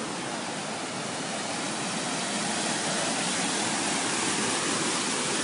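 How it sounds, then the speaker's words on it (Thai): Floodwater rushes hard through a swollen stream beside the Chiang Mai–Chiang Rai road during a flash flood, a loud, steady, close roar of water with no break. "จะได้ยินเสียงน้ำไหลค่อนข้างแรงนะคะ จาก ลำธารข้างๆนะคะ"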